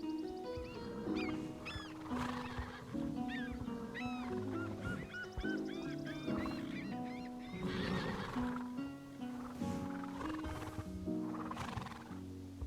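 Horses in a horse-riding video game neigh and whinny repeatedly over a soft musical background, with several overlapping calls and faint hoof clops throughout, no talking.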